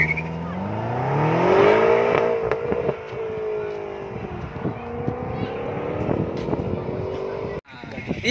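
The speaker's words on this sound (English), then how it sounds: "Hiyo ni M5 eh? Gari inaenda." A BMW M5 at a Racewars event in Tatu City drives past with a loud engine rising in pitch as it accelerates and then holds a steady drone, while people talk nearby.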